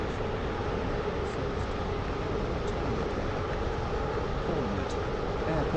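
A Class 360 electric train rolling toward Airport Terminal 1 on the terminal loop, a steady loud rumble of wheels and motors with constant broadband rail noise throughout.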